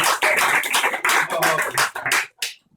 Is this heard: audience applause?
yes